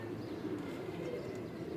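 Pigeons coo in soft repeated low calls at a rooftop loft, fairly faint against a light background hum.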